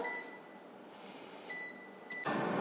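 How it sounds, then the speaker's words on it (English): An air fryer is switched on with a couple of thin electronic beeps over a soft background hiss, followed by a broad, steady whoosh as its fan starts up. "I'm gonna spray it again, pop it in the air fryer, and turn it on."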